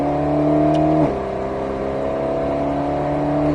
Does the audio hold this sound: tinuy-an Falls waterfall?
no